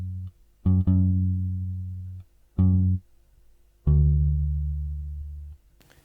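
A bass line for a 1970s soul-style sample, three separate sustained low notes that ring out and decay, the last one held longest, played alone and clean.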